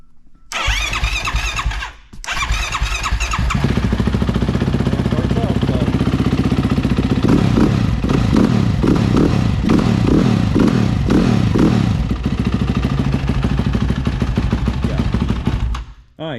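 A Can-Am Renegade ATV engine cranks, catches and fires up loudly, then is revved several times in sharp surges over a steady close idle after repair work on its axle bearing.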